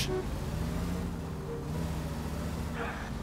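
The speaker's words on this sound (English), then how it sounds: "everybody's honking today" Car horns honk in heavy street traffic in the L.A. Noire video game, a sustained horn tone breaking through a steady engine and traffic rumble, with a second brief honk near the end.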